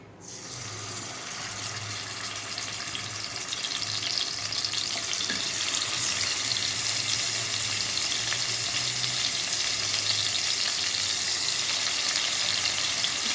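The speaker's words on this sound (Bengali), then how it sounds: "আধ ঘন্টা আগে যে মাংসগুলো আমি মেখে রেখেছিলাম তেলটা যখনই গরম হবে এর উপর আমি এক এক করে মাংসগুলোকে ভেজে নেব" Marinated chicken pieces fried in hot oil, a loud continuous sizzle that swells after a quiet start and holds steady up close, with faint stirring.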